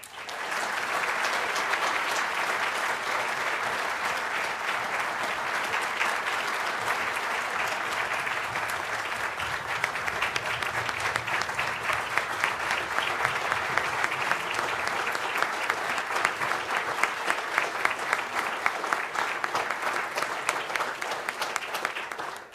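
Sustained ceremony applause for the Public Affairs Hall of Fame Class of 2018 inductees at the Keith L. Ware awards, a dense, even wash of many clapping hands holding steady and loud throughout.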